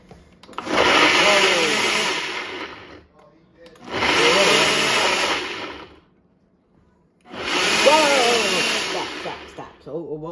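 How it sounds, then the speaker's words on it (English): A blender whirs through a pineapple smoothie in three loud, roaring bursts of about two to three seconds each, separated by short pauses, heard up close. "now we are going to blend our little pineapple smoothie here"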